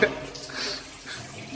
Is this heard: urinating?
yes